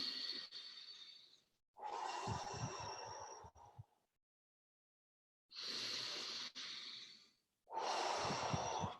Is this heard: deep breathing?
yes